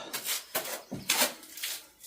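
A deep wooden cutlery drawer is slid and knocked into place under a kitchen counter during a kitchen build, giving a series of close scraping slides and hollow wooden bumps.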